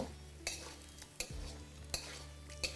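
A spoon stirs ground coriander and other spices into yardlong beans and potato curry in a pan, with four or five distinct scraping knocks over a low, steady sizzle.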